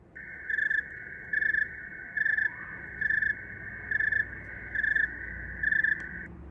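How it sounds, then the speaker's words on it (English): A cricket chirps in seven evenly spaced, clear bursts, each lasting roughly half a second, over a quiet background. "the difference in those different kinds of chirps, even though they're from the same cricket"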